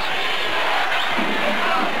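Steady roar of a basketball crowd cheering at an NBA game between the Utah Jazz and the Sacramento Kings, a broad, even wash of voices from the arena that holds level throughout.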